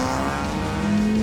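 USTCC touring race cars charge side by side through turn 1 at Thunder Hill Raceway, a loud sustained engine roar with a rising tone as they pass close by.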